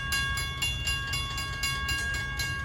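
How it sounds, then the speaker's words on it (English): Commuter train 2740 from New York approaches the New Hyde Park Road railroad crossing at rush hour, a rhythmic rail rumble with steady ringing tones and regular clacking pulses, moderately distant. "Approaching now is train 2740 from New York to Spionk."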